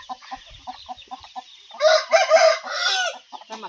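A rooster of the Thai Buriram fighting-chicken breed crows loudly in the middle, with steady rhythmic clucking from nearby fowl before and after.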